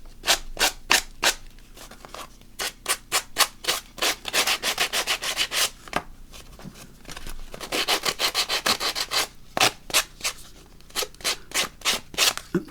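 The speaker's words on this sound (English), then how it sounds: "I think that you get a good smooth edge if you do it with a sanding block" A sanding block rubbed along a paper or card edge in a journal-making craft session, in quick repeated strokes forming an even, scratchy rhythm with a few short pauses, close and clear with no talking.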